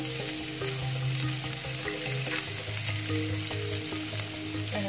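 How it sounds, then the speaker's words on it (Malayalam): Two medium-sized chopped onions fry in a pan for poha upma, giving a steady loud sizzle with occasional crackles and stirring scrapes throughout. "അരിഞ്ഞിച്ചേക്കുന്ന സബോള ഇട്ട് കൊടുക്കാം."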